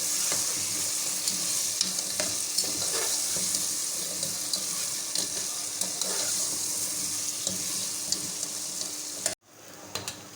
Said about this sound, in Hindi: आलूओं को हम तेल में फ्राई कर लेंगे।